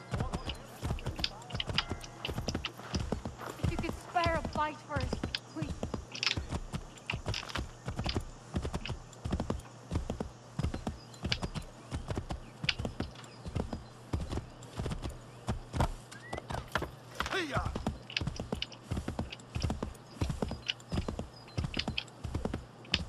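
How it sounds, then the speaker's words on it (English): Regular clip-clopping of horse hooves at an even walking pace throughout in Assassin's Creed III, with brief bursts of other game sounds and a short voice in the middle. "Oh man, this horse is so slow."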